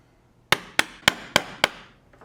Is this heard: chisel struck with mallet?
yes